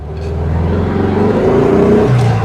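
A 1972 VW Super Beetle air-cooled engine fitted with a new carburetor idles close by, a steady, loud, low rumble with a faint rise near the end, and no talk over it.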